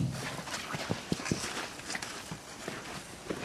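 Hooves thud and clop irregularly on soft ground as a horse walks nearby, moderately loud, with rustling in between and no voices.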